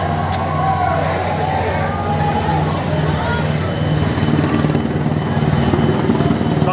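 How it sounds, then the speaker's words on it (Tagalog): A helicopter passes overhead near a burning market, its rotor thumping in a steady low pulse beneath a broad engine roar while people talk nearby. "Bakit eh, helicopter?"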